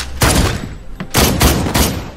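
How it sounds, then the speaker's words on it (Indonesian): A few loud, heavy gunshot bursts close by, each followed by a booming decay, separated by short gaps. "Mendengar suara tembakan, Lim pun segera bergegas"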